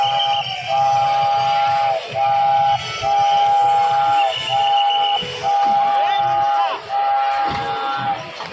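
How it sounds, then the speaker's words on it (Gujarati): A train passing near Atal Sarovar, sounding a series of loud, sustained horn blasts separated by short gaps over a rumbling undertone, with voices nearby. "જો ટ્રેન આવી રહી છે."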